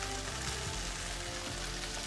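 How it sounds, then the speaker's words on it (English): Chicken frying in oil in a smoking hot pan, a steady, close, continuous sizzle and crackle holding at an even level throughout. "you can hear my chicken is sizzling"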